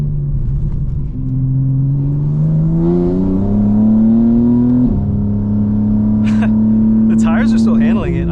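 A 900hp 2025 BMW M4 Competition xDrive revs up steadily under light throttle, its engine note climbing and then dropping sharply at a gearshift before pulling on again, loud and close, with talk over it.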